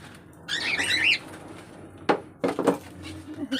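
Caged birds flutter and flap their wings in a bird room where a large snake has got in. The bursts of wing noise are close and agitated, with a sharp chirp or squawk among them.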